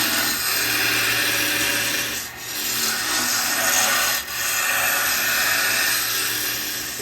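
A round carbide tool cuts a spalted wood vase spinning on a woodturning lathe, giving a steady, loud scraping rasp that continues throughout, briefly dipping twice.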